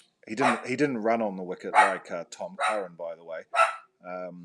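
A pet dog barks in the background of a home, faint and intermittent beneath a man's continuous close-up talk about cricket.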